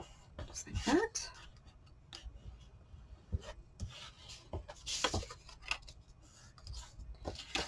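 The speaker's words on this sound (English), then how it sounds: "definitely just burnish that down really good" Paper being burnished down onto a handmade vintage craft purse, soft scraping and rubbing strokes in short irregular bursts, close and quiet, with faint whispery speech between.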